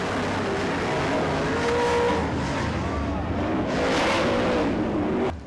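Dirt track race cars roar around the Plymouth Dirt Track in a loud, continuous engine drone that swells as they pass out of turn 4, with a sharp cutoff at the end.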